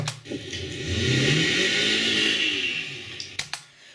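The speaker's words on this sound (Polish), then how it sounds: "słyszycie te obroty silnika, silnik wyje, przód mieli, a tył stoi" A fourth-generation Honda CR-V engine revs hard and holds a loud, sustained whine at full throttle as the front wheels spin, then drops off with a few sharp clunks near the end.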